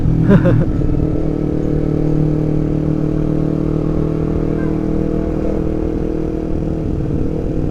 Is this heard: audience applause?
no